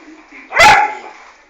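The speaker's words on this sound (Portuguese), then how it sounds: "para de latir" A dog lets out a single sharp, close bark while playing with a ball indoors. Quiet room tone fills the moments around it.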